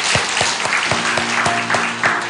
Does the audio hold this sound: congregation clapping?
yes